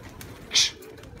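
A single short pigeon coo rises once near a dovecote, close and clear above a low background murmur.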